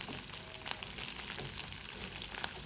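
Drumstick leaves (moringa) frying in hot oil for upma, a steady crackling sizzle that stays even and fairly quiet throughout, with no voices.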